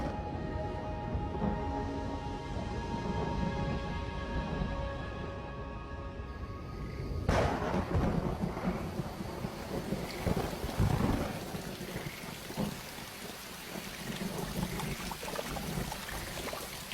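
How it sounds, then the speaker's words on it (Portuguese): Steady heavy rain over the Pantanal wetland plain as a storm moves in from the surrounding mountains, with a sharp close thunderclap partway through followed by rolling rumbles under the continuing downpour. "A chuva já estava caindo nas montanhas ao redor e agora chega ao Pantanal propriamente dito."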